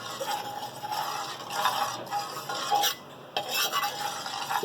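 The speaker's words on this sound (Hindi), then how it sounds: "तो हम गरम करेंगे और पूरे बर्तन में हम फैला लेंगे।" Ghee is stirred and spread around a hot non-stick frying pan with a utensil, giving soft, continuous scraping and swishing with a faint sizzle, steady and close with brief pauses.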